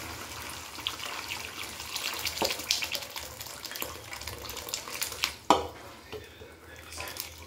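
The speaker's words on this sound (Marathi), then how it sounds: "आता बघा मटकीचं पाणी ॲड करते मी." Water is poured into a moth bean (matki) curry cooking in a pan, giving a continuous splashing and sizzling wash of sound with a few sharper clinks, close and moderately quiet.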